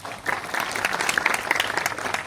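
Audience applause at a Rojgar Mela job-appointment ceremony in Guwahati, where railway appointees are congratulated; steady, dense clapping from a sizeable crowd that swells in quickly and holds throughout.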